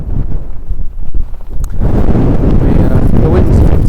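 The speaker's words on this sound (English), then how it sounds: "The wind is a bit strong at the moment." Strong wind buffets the microphone on an exposed Peak District moorland hillside at Bleaklow Stones during a wet, windy summer camp, a loud continuous rumbling roar that gusts and then holds steady.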